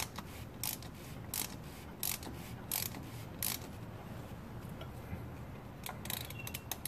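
Small socket ratchet snugging a fitting on a 2000 Porsche 911 Carrera during an oil change, giving a series of quiet, crisp ratcheting ticks in short bursts, close by and with no talking.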